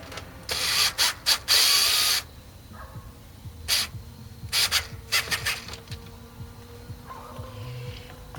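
A screw being tightened on a 47D01U-843 heat pump defrost control, heard as short bursts of ratcheting clicks from a hand tool, repeated in several clusters up close against a quiet background.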